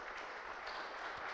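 A church congregation applauding during an evening service, a brief, fairly faint wash of steady clapping heard from a distance.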